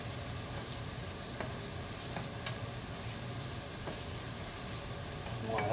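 Caponata vegetables sizzle and fry steadily in a pan, a constant close crackle with faint stirring scrapes and no voices.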